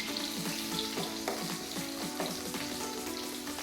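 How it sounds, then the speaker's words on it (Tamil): Bitter gourd fries in a pan while a spatula stirs it steadily, many quick rhythmic scraping strokes over a continuous sizzle, close but moderately quiet, no speech. "நல்லா கிண்டிகிட்டே இருந்தால் நல்லா வதங்கிடும்"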